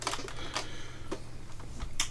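Keyboard section of a vintage portable PC flipping down, a few short plastic clacks and taps spread unevenly, close and fairly quiet, no voices.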